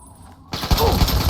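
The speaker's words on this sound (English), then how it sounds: "that 10mm SMG hurts" A 10mm SMG fires a loud, rapid burst of automatic gunfire in the video game Fallout 3, erupting suddenly after a quiet moment and continuing to the end.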